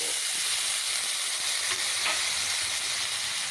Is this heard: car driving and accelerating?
no